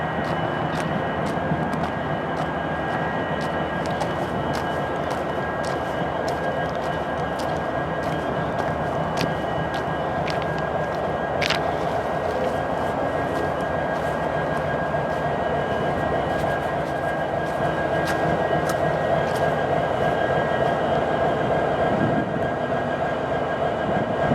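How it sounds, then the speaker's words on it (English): An EMD 710 prime mover idles on a freight locomotive in snowy central Ohio, giving a loud, steady diesel rumble with a constant tonal whine and occasional faint clicks, continuous throughout with no talk. "let's hear the relaxing sound of an EMD 710 prime mover in idle"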